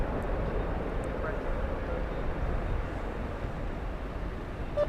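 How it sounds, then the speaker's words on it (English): A jet airliner bound for Istanbul roars steadily at DFW Airport by night, a broad, fairly distant rumble with wind noise and faint voices over it. "This is a 6-year-old plane headed back to Istanbul"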